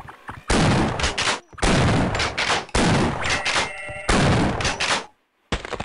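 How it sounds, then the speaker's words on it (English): Shotgun firing in Half-Life: Opposing Force, four loud, heavy blasts in a row, each with a booming tail, spaced about a second apart, with a brief silence before a fifth shot begins. "Let me get that shotgun out."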